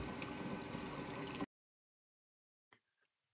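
Water is poured into the cooling system of a 55W xTool P2 CO2 laser, a loud, steady liquid rush that cuts off abruptly partway through and is followed by quiet and a few faint clicks.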